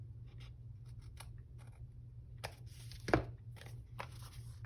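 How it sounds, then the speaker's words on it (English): Quiet snips of scissors trimming paper for a junk journal, a few short cuts spaced apart, then a cluster of sharper snips and rustling paper near the end. "let me get my scissors and just trim this a little"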